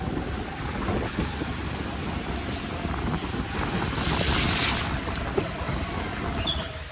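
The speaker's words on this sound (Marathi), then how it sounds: "कसं ना पाणी रस्त्यात वाहते" Flood water rushing along a street in Nashik, a broad steady roar of flowing water with wind buffeting the microphone, loud and continuous without talk.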